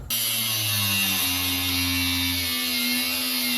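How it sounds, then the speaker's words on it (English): Power tool grinding through a weld on a Jeep part, a continuous loud whine with a steady pitch that shifts slightly early on, close and alone. "Now we're cutting the weld to try to get it off to fix it the correct way."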